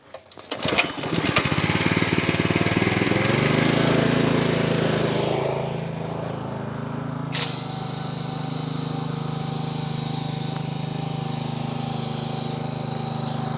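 A pressure washer spraying soap over a Polaris off-road vehicle starts with a loud engine-driven roar and spray hiss, then drops to a steadier, quieter motor drone with a brief hiss burst midway.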